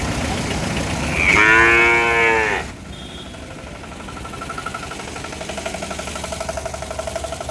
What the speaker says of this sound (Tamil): இதெல்லாமே சிந்து மாடுகள், சிந்து கன்றுகள்.